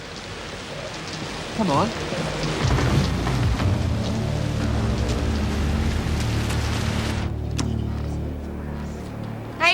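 Steady rain falling outside a vehicle, a continuous broad hiss with a low rumble beneath, with a voice briefly speaking over it.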